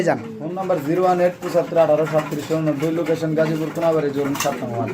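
Pigeons coo continuously up close, soft throaty warbling calls overlapping one another, with other birds faintly in the background.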